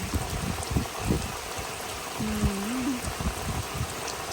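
Steady rain over a flooded rice field makes a soft continuous hiss, broken by scattered low splashes and a brief whistling tone partway through.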